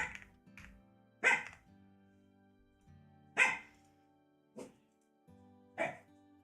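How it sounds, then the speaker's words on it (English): A dog in the Sims 4 life-simulation game barks four times, sharp and evenly spaced a couple of seconds apart, over a quiet steady background hum. "Puppy dog's freaking out"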